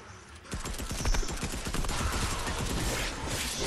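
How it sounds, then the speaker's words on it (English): Rapid bursts of gunfire from the Fortnite video game, sustained and loud, with dense overlapping shots running throughout. "The kid is shooting."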